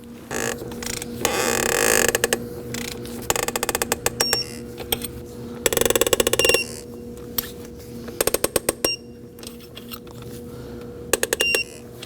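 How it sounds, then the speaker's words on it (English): Torque wrench tightening intake manifold bolts on a 2011-2016 Kia Optima, with bursts of rapid ratcheting clicks coming in several short runs over a steady low hum. "Now we're gonna go ahead and torque those four bolts to 9 foot-pounds."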